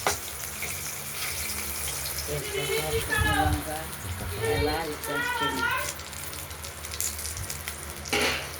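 Whole dried red chillies, cardamom, cinnamon and cumin hit hot oil in a wok (kadai), giving a steady close sizzle that runs under a person talking through the middle of the clip.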